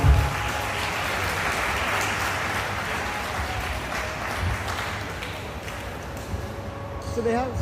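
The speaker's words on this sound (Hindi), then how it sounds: "सर के लिए जोरदार तालियां हो जाए।" An audience at a stage event gives hearty applause as a guest is invited up to receive a memento, a continuous dense clapping wash lasting several seconds, with a voice speaking over it.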